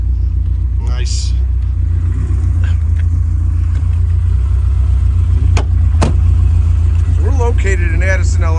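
A 1978 Porsche 924 engine runs at a steady, loud, close rumble, with a few sharp clicks and brief higher-pitched sounds over the constant drone.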